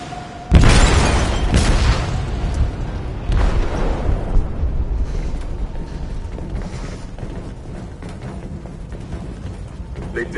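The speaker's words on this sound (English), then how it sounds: "They detonated an explosive in the hold." An explosive detonating in a ship's hold in the game Detroit: Become Human: a sudden loud boom followed by a long rumbling, creaking tail of debris and groaning metal that slowly fades.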